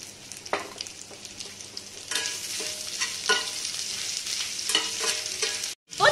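Steady sizzling of small onions frying in oil in a pan for mutton chukka, with scraping stirs and clinks throughout, briefly cutting out near the end.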